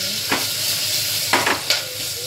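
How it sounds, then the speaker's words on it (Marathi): Cooked varan dal is poured into hot oil for tempering, producing a loud hiss and sizzle with a few sharp bursts of splatter and stirring, close up and without talk. "ते बघा तुम्ही वरण मी फोडणीला टाकत आहे"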